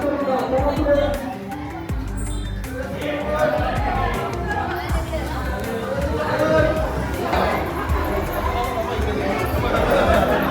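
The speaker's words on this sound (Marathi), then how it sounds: "पण भरपूर गर्दी आहे" Crowd at a palkhi procession, a thick babble of many overlapping voices with scattered clatter and footsteps, steady and close throughout.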